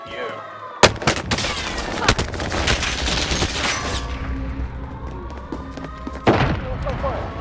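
Hostile gunfire in a video game, a sharp loud shot followed by a rapid volley of overlapping bursts, then scattered fainter shots and another loud report near the end, with voices speaking over parts of it.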